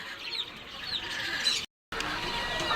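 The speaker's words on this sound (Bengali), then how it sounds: "এই যে দেখুন আল্লাহ রহমতে ব্রাহ্মাগুলা" Buff Brahma chickens clucking in a backyard pet setup, a continuous busy chatter of nearby birds broken by a brief moment of silence, with no talk.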